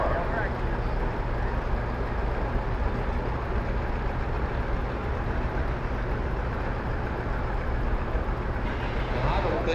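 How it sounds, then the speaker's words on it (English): A 1952 John Deere R tractor running in a gas and steam engine show parade in Winfield, Kansas, a steady low engine drone with outdoor crowd noise, continuous and moderately close, with a voice faintly audible. "Jim Pells, 1952 John Deere R."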